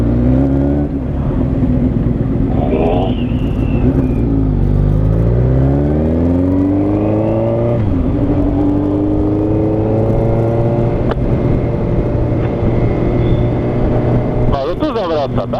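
A car engine hums and shifts pitch as it drives off close by on a road near Wisła Mała, its tone rising and falling under steady conversation between people.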